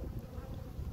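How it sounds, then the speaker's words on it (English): Honeybees hum steadily around a hive on a warm day, a faint, continuous low buzz with no voices. "This hive's been fairly active on warm days this season."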